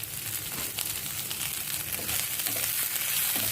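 Green chillies dropped into onions frying in oil in a pan, a dense, steady sizzle with faint crackles and a slight swell toward the end.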